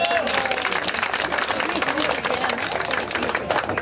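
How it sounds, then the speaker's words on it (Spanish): An audience at a 50th birthday celebration bursts into loud, dense applause, continuous clapping filling the whole moment up close. "Los aplausos, por favor"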